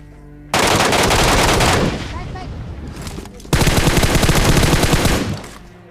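Rapid automatic machine gun fire from an MK rifle rings out in a mobile battle royale game, two loud sustained bursts of tightly spaced shots separated by a brief lull.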